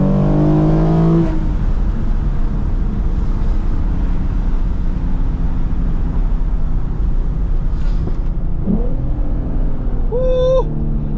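A Lexus IS350 engine roars loudly with a rising rev to the rev limiter at the start, a steady drone and wind rush, then another sharp climbing rev near the end.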